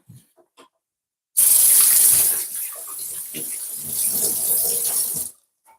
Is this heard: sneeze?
no